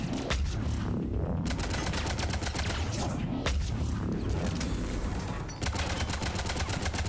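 Sustained automatic gunfire from turrets in the video game Mass Effect 3, a loud, dense stream of rapid shots with brief breaks, carrying on almost without pause throughout.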